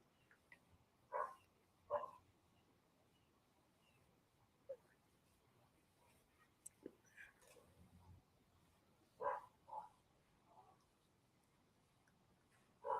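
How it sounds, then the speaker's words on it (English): Dogs barking far off outdoors: several faint, scattered barks and yips come in short separate bursts over quiet background ambience, some in quick pairs. "And now you can hear dogs barking in the distance."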